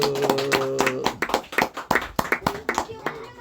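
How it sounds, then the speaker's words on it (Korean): A church congregation claps together in a quick, steady rhythm of sharp, close claps lasting the whole stretch, with a sustained musical tone under the first second. "하나님께 영광의 박수."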